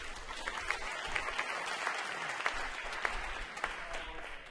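An audience applauds a panelist at an MIT event, a continuous wash of clapping with a few sharper individual claps standing out, moderately distant and fairly quiet.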